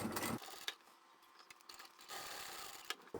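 A sewing machine runs a triple stitch along the side of a tote bag, a quiet, brief mechanical whir with a few small clicks between short bursts of stitching.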